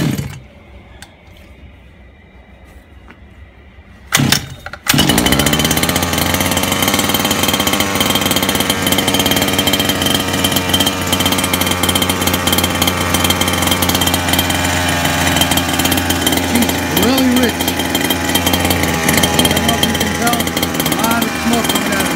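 An engine starts with a sudden burst after a quieter stretch, then runs loud and steady at a constant rough drone close by for many seconds, with no talk over it.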